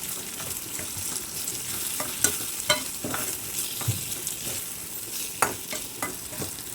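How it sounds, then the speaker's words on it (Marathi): Onion, garlic and tomato-potato masala fries in hot oil for a Marathi potato bhaji, giving a steady close sizzle broken by frequent scraping stirs and spoon knocks against the pan, with no voices. "कांदा लसूण मसाला घालायचा आहे तेलात चांगला असं भाजून घ्यायचा"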